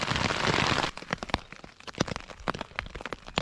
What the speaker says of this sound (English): There's your bit of hail.